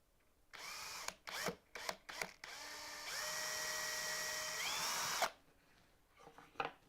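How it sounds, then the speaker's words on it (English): A power drill with a brad point bit whirs in several quick bursts, then runs steadily for about two seconds as it bores through wood before stopping. "to drill a hole from this side"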